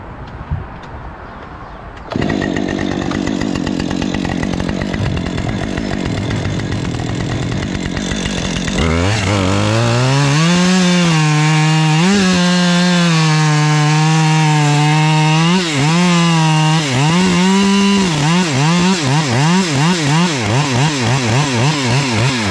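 Chainsaw cutting through a large oak trunk to block it into roughly three-foot pieces, the engine loud and close, idling briefly before revving hard and bogging into a long, wavering cut with no talk.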